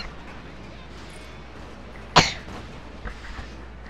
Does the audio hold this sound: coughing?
yes